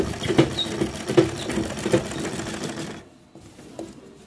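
A sewing machine stitches along the hem of a salwar in quick rhythmic bursts of mechanical clatter, then stops, leaving quiet with faint handling sounds.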